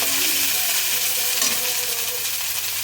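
Grated coconut fries in hot oil with a loud, steady, hissing sizzle, while light scraping and stirring noises come and go underneath.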